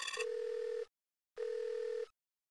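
Telephone ringing in the Nightmare Ned video game, two electronic ring bursts separated by a short silence, clear and alone.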